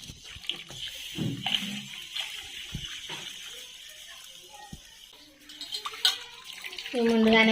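Soaked rice is rinsed by hand under running water, with irregular splashes and swishes close by and a tap gushing toward the end.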